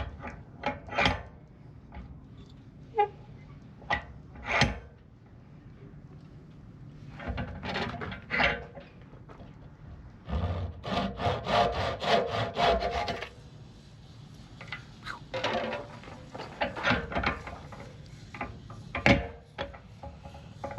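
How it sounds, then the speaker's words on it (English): A hand saw cuts a curved piece of wood for a small sailboat repair, with irregular rasping strokes in bursts and short runs of faster sawing between pauses, heard close with no talking. "Now goes half of the teeth of the saw."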